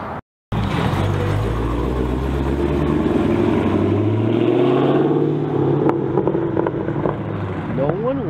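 A 392 V8 car with its middle mufflers removed and rear mufflers still fitted, its loud exhaust rumble droning steadily at close range after a brief gap, with people talking over it.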